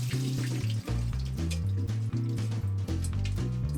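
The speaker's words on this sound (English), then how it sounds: "So I'm just going to give them a rinse in one of these trays." Tap water running and splashing over soaked black sunflower seeds being rinsed in a tray, a close, continuous gurgling flow with uneven surges and no talk.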